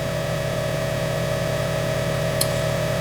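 A steady, sustained synth tone with a constant hum and buzzy harmonics, holding evenly with no breaks, plus a faint brief click near the end.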